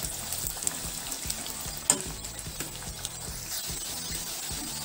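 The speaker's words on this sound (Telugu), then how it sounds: "కొద్ది కొద్దిగా వేసుకొని డీప్ ఫ్రై చేసుకోవాలి" Bitter gourd slices deep frying in oil, a steady bright sizzle and bubbling with scattered clicks and a sharp tap near the middle, close and unbroken, no voices.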